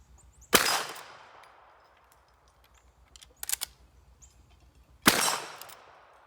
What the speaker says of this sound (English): dozens of shots like that